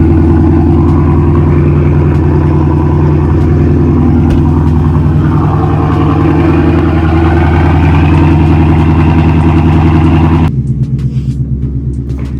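A BMW X5 engine runs loud and close, a steady rumbling drone that swells slightly as it revs, then drops sharply toward idle near the end, with no talking.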